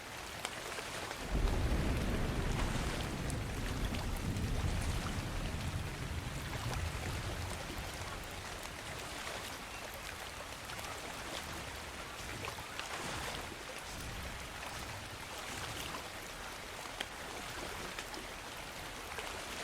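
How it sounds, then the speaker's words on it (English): Steady rain pours down in the video game Ark, a dense continuous hiss with a low rumbling swell early on, heard alone with no voices. "It started to rain"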